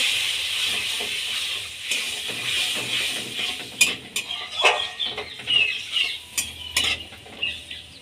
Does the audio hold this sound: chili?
yes